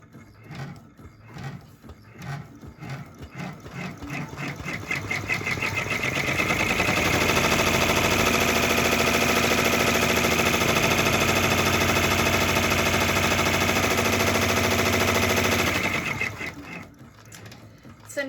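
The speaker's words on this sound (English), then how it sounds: "now it's going to do a placement stitch for the clear vinyl" An embroidery machine runs a placement stitch for clear vinyl on an in-the-hoop project, starting with slow rhythmic clicks, then ramping into a fast steady mechanical whir before winding down to clicks again.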